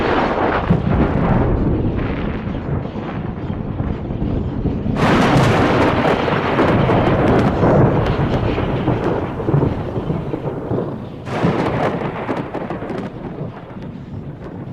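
Loud, continuous rumbling thunder rolling through a storm, with heavier crashing bursts around five and eleven seconds and steady rain noise beneath, no voices.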